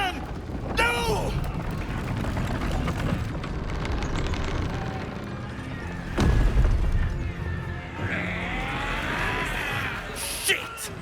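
A cannon blast booms during a battle in the video game Baldur's Gate 3, landing as a heavy explosion midway through a steady din of combat noise, with shouting voices and other effects around it.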